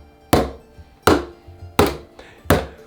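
Four loud, sharp drum strikes spaced evenly apart, each a bodhrán downstroke with a quick, booming decay between hits.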